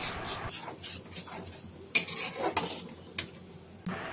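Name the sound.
stirring cashew paste in a kadai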